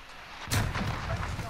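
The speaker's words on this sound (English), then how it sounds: "firing rockets up here" A rocket launch booms in a video game street scene, a single loud blast followed by rumbling, with a further sharp burst at the end.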